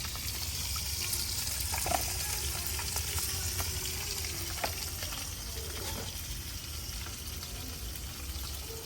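Curry simmering and frying in a pan on a home stove, a steady soft sizzle and bubbling hiss running throughout with occasional small clicks and stirring knocks, fairly quiet and close.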